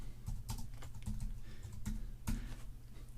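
A title is typed on a computer keyboard, a quick, close patter of soft key clicks with a few louder taps, steady and alone with no talk.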